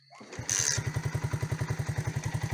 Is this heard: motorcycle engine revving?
yes